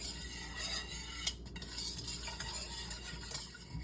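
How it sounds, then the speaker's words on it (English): Flour being whisked into a banana pudding mixture cooking in a pot, a steady run of close, brisk whisk strokes and light scraping against the pan with no talking. "Add a little flour. And you want to whisk it up real good."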